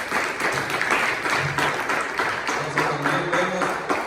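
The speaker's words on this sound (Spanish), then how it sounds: "Denle un fuerte aplauso." A church congregation gives a loud, steady round of applause throughout, a dense field of claps with a low voice murmuring underneath at times.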